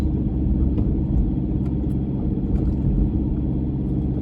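An off-road vehicle cruises along the beach at Israelite Bay, its engine a steady, loud low rumble with road noise that does not let up.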